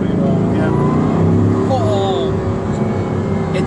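A Bugatti Chiron accelerates hard, its engine roaring loud and continuous with rising whine, while a voice talks over the drive.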